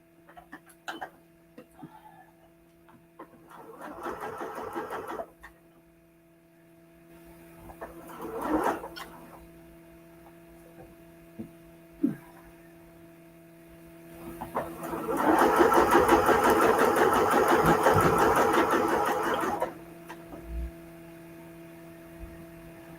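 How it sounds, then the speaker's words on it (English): A domestic sewing machine stitches fabric quilt-block pieces in short bursts: a few brief runs early on, then a longer steady whirring stretch. Between runs there is a faint background hum and occasional clicks. "Don't sew that side, Kelly."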